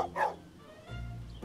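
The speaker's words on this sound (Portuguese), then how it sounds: "Para de latir!" Dog barking in the Schoolboy Runaway video game: a short, moderately loud bark near the start, then a low rumbling game background with no voices.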